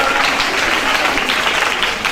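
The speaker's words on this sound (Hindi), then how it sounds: "तमन्ना बेटिया के लिए तालियां जोरदार" Loud, dense applause fills the room for the cast of a stage play about the price of milk, a steady wash of many hands clapping throughout with no breaks.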